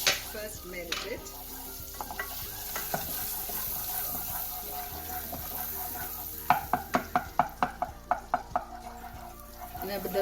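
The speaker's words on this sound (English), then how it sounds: "Now the butter is almost melted." About six tablespoons of butter melt and sizzle in a pan for white sauce. A soft frying hiss runs under clinks and scrapes, then a quick run of sharp utensil taps against the pan.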